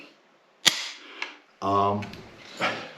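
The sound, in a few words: dry firing a Savage 1899 lever-action rifle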